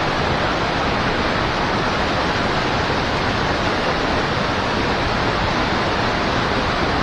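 A small waterfall on the Fox River pours in a loud, unbroken hiss of rushing water, dense and even from start to finish.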